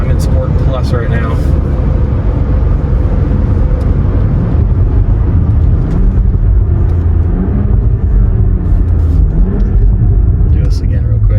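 A tuned BMW X3 M40i (G01) in Sport Plus launches from a brake-held start, its engine building revs as the SUV accelerates, heard from inside the cabin as a continuous loud rumble that rises and shifts in pitch.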